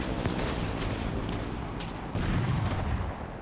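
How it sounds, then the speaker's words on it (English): Shock rifle fire in Halo Infinite crackles in a quick series of sharp bursts amid a dense, noisy battle din, steady and loud throughout. "these guys are obnoxious with the, the shock rifles"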